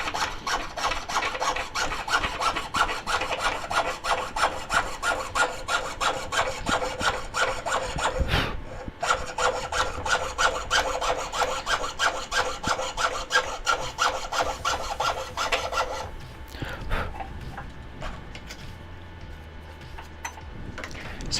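A saw blade, shortened after breaking, cuts wood for a spoon pendant: fast rhythmic rasping strokes, close and steady, pausing briefly midway, then stopping for quieter handling noises at the end.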